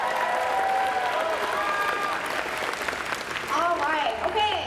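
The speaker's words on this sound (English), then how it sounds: "Round of applause for Ian Finley." Crowd applause at a costume contest during a convention, a continuous wash of clapping with cheers and whistles cutting through, swelling again near the end.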